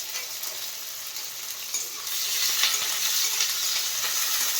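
Cashews and onions frying in a pan with a steady, crackling sizzle, close up and continuous, growing a little louder partway through as the food is stirred.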